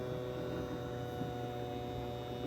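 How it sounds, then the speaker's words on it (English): An electric mason jar vacuum sealer runs with a steady, unbroken motor hum and whine, close and even in level, with no voices over it. "Click the button and the electric mason jar sealer will start to vacuum"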